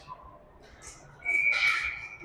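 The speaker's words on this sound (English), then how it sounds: "It's a pretty quiet whistle. Just like a little Tweety Bird whistle." A referee's whistle at a youth ice hockey game in a Minnesota rink gives one faint, thin, high tweet, short and distant against quiet arena ambience.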